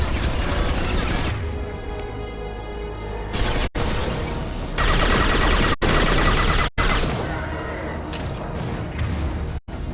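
Heavy gunfire in a Mass Effect 2 firefight during the Shadow Broker battle: dense, continuous bursts of automatic fire and blasts, loud and close, with brief breaks.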